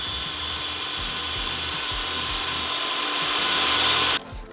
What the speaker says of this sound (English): this is where these power rotary scissors come in handy